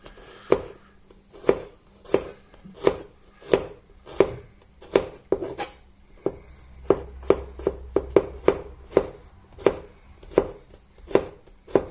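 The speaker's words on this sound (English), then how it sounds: "I will start off by chopping this garlic up finely" A knife chops garlic steadily on a cutting board, sharp regular knocks about two per second, close and clear with no talking.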